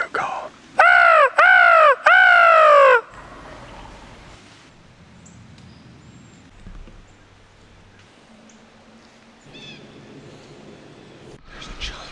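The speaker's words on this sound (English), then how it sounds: "This crow called." A crow caws three times in quick succession, loud and close, in a quiet autumn woodland during an Ohio bowhunt, followed by faint rustling and distant soft calls.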